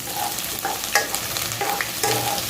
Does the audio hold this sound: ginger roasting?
yes